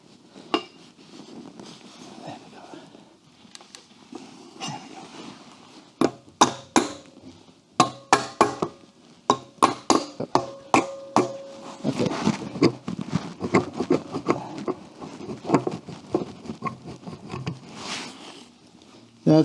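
A wrench works loose the cylinder heads on an Excelsior motorcycle engine during a teardown. Metallic clicks and clanks come in irregular clusters, with someone talking between them.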